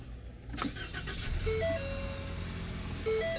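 A 2017 Ford Explorer's 2.3-liter turbocharged EcoBoost four-cylinder engine starts and settles into a steady idle hum nearby, joined by a few electronic chime tones.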